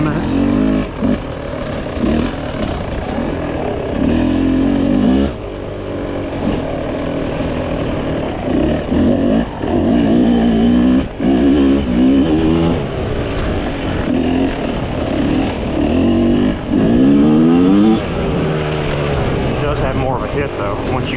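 A trail motorcycle is ridden in Casey County, Kentucky, its engine revving and rising and falling continuously up close, with a rider's voice talking over the engine noise.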